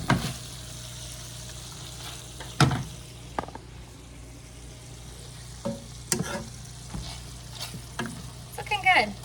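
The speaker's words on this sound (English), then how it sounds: "Our sausage is just about done over there. Let's check on it. I hear it sizzling" Sausage sizzles softly in a pan as a faint, steady fry, with a few sharp clinks and scrapes of a utensil on top.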